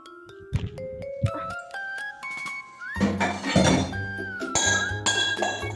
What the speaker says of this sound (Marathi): भांडी घासते. मला वाटलं पडली बिडली का काय.